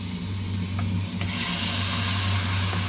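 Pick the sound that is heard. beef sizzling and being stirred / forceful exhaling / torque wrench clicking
beef sizzling and being stirred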